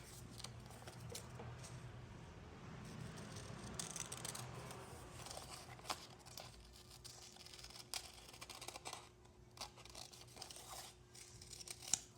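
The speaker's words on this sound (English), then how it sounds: "So we're trimming all of that off." Scissors trim excess paper and material from a Peter Pan collar notebook project with quiet, close snipping and rustling. The cuts are irregular and soft, and some crinkling comes in between them.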